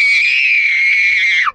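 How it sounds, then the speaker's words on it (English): A young child at a kids' basketball camp lets out one loud, sustained, high-pitched scream of excitement that lasts well over a second and then drops off sharply at the end. "Scream because you're so happy there's a stop."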